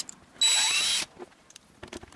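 A power drill whirs loudly for about half a second, driving a screw into wood with a steady high whine, then cuts off, leaving faint clicks and handling noises.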